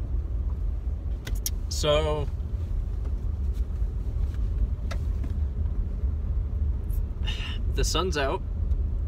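Car driving on a road before dawn in dark, foggy conditions, a continuous low engine and road rumble with wind noise, as someone talks briefly over it and a couple of sharp whistling squeals cut through.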